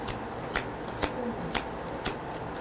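Large tarot cards being shuffled and drawn by hand, crisp riffling bursts repeating roughly every half second, close up, with faint background noise and no speech.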